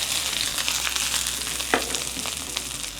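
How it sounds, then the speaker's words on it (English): Vegetables fry in a hot pan for General Tso's chicken with broccoli, a steady close sizzle with a brief scrape or stir midway and no voices. "once the pan is hot, we're going to carefully add the ingredients of bag number 3, the veggies, into the pan"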